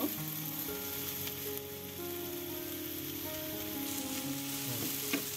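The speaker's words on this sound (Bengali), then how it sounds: "এখন এভাবেই আমি 5 মিনিট ফ্রাই করে নিচ্ছি, মাঝে মধ্যে নেড়ে দেব।" Shredded cabbage and egg fry in a pan with a steady, close sizzle, broken by a few clinks from occasional stirring. A faint musical tone hums in the background, and no one speaks.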